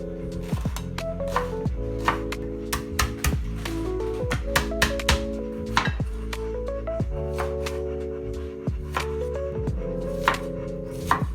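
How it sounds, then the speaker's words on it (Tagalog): Knife chopping tomato, onion and garlic on a cutting board for Filipino fish tinola, a run of quick, close, sharp taps with short pauses between bursts, set against steady background music. "So while waiting for the water to boil, of course, i-chop na naman natin itong mga ingredients nito."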